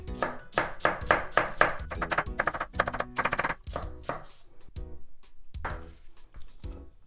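A knife chops food into strips on a cutting board for Japanese somen noodle toppings, a quick run of close, loud, rhythmic chops that slows to sparser, spaced cuts.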